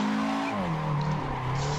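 Drifting car in the racing game Assetto Corsa, an AE86-style mod, sliding sideways: a steady engine drone with a falling pitch and a hissing tire squeal running continuously for about two seconds, with no talk.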